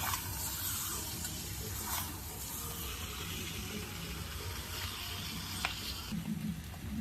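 Marinated chicken for a traditional chicken kasha sizzles steadily in a pan on the stove, a dense continuous crackling hiss at close range with occasional stirring scrapes and no talking.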